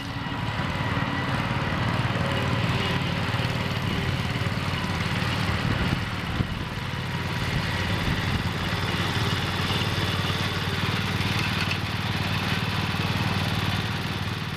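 John Deere 110 garden tractor engine with a rod knock, running steadily close by, a loud, even mechanical drone that holds throughout with no voices.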